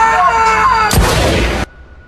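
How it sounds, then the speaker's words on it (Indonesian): A loud pistol shot bursts out sharply, ringing for under a second before cutting to near silence, over a dramatic film soundtrack. "Erika menembak Brian."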